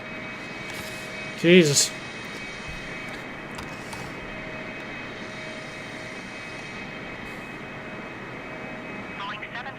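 A Boeing 747 engine drones steadily and fairly loud in Microsoft Flight Simulator while a voice briefly exclaims over it.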